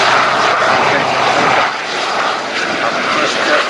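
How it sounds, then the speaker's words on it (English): Aerobatic aircraft rolling for takeoff at the Royal International Air Tattoo, RAF Fairford, give a loud, sustained engine roar that stays close and steady, with a commentator speaking over it. "other aerobatic aircraft, and they're rolling now from our right"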